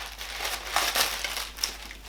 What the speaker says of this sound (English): Remove the tissue paper.